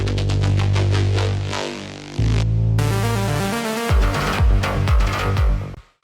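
A loud, bright wobble synth in a melodic techno track wobbles and throbs in a pulsing rhythm, cutting in and out over a driving electronic beat.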